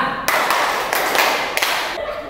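A standing group claps hands in rhythm during a classroom ice-breaking game, with loud close bursts of claps over a dense, busy background.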